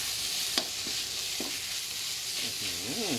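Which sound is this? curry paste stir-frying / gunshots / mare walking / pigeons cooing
curry paste stir-frying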